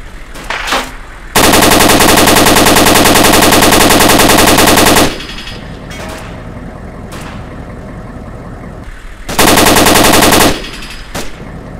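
Sustained automatic gunfire in Arma, loud and dense, in two long bursts of several seconds with quieter engine rumble and scattered single shots between them.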